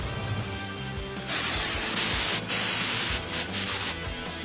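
Spray foam insulation gun hissing out expanding foam in a DIY insulation job, a steady broadband spray that swells louder in bursts with short breaks, close and alone.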